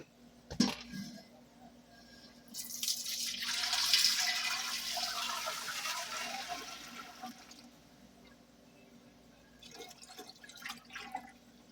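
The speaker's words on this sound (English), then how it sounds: "I'm going to ease it on the stove and go ahead and pour everything over into it" Mixed berry jelly mixture poured from one pot into a bigger pot on the stove, a steady liquid splash and trickle that swells for several seconds, then fades to a few faint drips and clinks.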